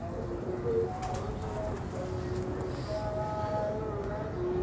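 Pigeons coo in soft, repeated low phrases, moderately close, over faint background noise and an occasional distant voice.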